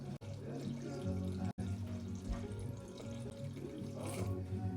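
Warm tap water runs steadily into a bowl for sourdough bread dough, a continuous splashing stream lasting the whole stretch with two brief cut-outs, fairly close and moderately loud.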